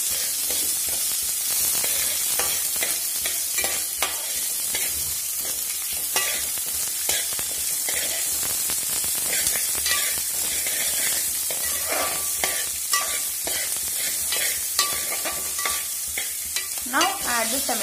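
Chopped onion sizzles and fries in a hot pan for tomato rice, with steady crackling hiss and repeated scraping stirs of a spoon throughout, close and continuous with no talking.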